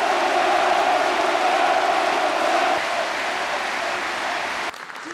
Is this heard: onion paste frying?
no